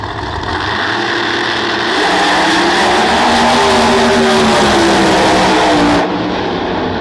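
Two no-prep drag race cars, the Chevy called the Yeti and Paige Coughlin's car the Golden Child, launch side by side at a No Prep Kings Outlaw 32 event in Virginia. Their engines roar loud and rising, revving hard as they accelerate.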